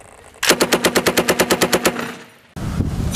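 A rapid burst of about fifteen evenly spaced machine gun shots fires during an infantry live-fire support-by-fire exercise, loud and close, then trails off before another loud blast of noise.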